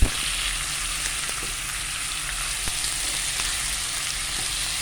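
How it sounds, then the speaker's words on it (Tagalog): Catfish (hito) sautés in a pan with a steady, close crackling sizzle that runs unbroken, with a few faint taps of a utensil and no speech. "So, igisa po natin konti."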